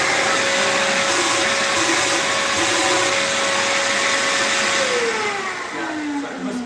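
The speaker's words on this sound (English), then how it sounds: "I should go around with the vacuum anyway" A vacuum cleaner runs loud and close with a steady whine, its pitch dropping slightly toward the end as the airflow changes.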